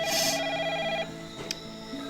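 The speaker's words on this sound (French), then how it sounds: "Attends, le téléphone," A telephone ringing in a French TV drama scene: a short, bright electronic ring at the start, followed by quieter tonal background sound.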